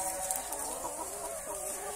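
Hens in a fresh green outdoor feeding and roaming pen give soft, scattered clucks over a low outdoor background, moderately close and quiet, with no talking.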